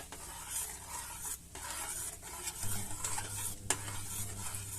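A spoon stirs mulled Żubr beer with spices in a pot over gentle heat, giving soft repeated scraping swirls against a faint simmering sizzle, close and quiet.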